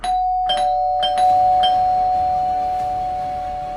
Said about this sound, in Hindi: लेकिन इतने ही में डोरबेल एक बार फिर से बजने लगता है।